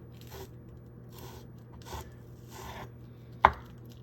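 A knife chops the white part of scallions on a board in a quiet kitchen, with four soft, evenly spaced cuts followed by a sharp click of the blade.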